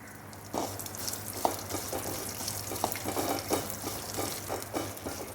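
Fenugreek seeds and urad dal roasting in a pan, giving a continuous gentle sizzle with a low hum underneath and frequent light scraping taps as the mixture is stirred.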